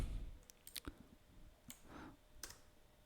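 Mouse buttons click a handful of times at a computer while working in an Excel spreadsheet: sharp, quiet, isolated clicks with irregular spacing over a faint room background.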